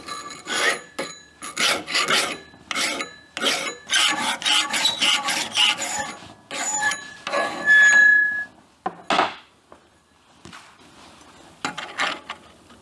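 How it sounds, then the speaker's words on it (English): A hand file rasps across the lip of a steel muffler end cap in a workshop, making loud, close, rhythmic strokes in bursts, then a few sparse scrapes after a brief pause. "So I take the file and I'm just filing off that."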